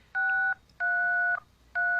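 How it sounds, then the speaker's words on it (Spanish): A telephone keypad plays three long dual-tone dialing beeps, clear and evenly separated by short pauses, with no voices heard. "ya marcaste."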